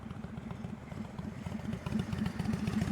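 A motorcycle riding slowly in first gear during an advanced slow-speed practice session in North Carolina: a steady, low, pulsing engine chug, close and continuous, growing slightly louder toward the end.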